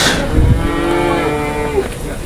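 A single long, loud moo from a young bull calf rings out close by, over the steady murmur of the busy Jalal-Abad livestock market.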